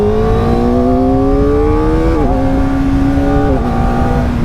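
Kawasaki Ninja ZX-4RR motorcycle riding through town, its engine holding a steady loud drone with rising pitch as it accelerates, then two quick drops as it shifts gear, close and continuous with no talk.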